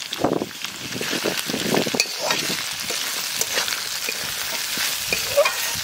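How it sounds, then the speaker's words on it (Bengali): Carrot, capsicum and beans with green chilli frying in a pan for chicken pasta, a close, steady sizzle broken by repeated stirring scrapes and clatters of the spatula. "গাজর ক্যাপসিকাম বিনস সুন্দরভাবে ভাজা হয়ে গেছে"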